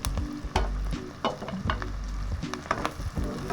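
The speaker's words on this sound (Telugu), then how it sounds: "ఇప్పుడు మనము పచ్చిమిరపకాయలు వేసుకుందాము." Green chillies and onions frying for chicken fry biryani, a loud close sizzle with repeated spatula scrapes and stirring strokes against the pan throughout, no talking.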